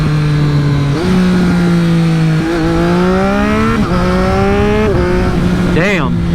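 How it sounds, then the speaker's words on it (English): A 2020 Triumph Street Triple RS with an SC Project S1 exhaust revs loudly through a series of downshifts, each gear change stepping the engine note up. Small pops and crackles follow the downshifts, and the sound stays close and continuous throughout. "after every downshift you hear little pops"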